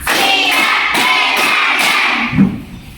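Students in a classroom clap in a steady rhythmic pattern, a run of evenly spaced group claps followed by a single duller thump as the clapping stops.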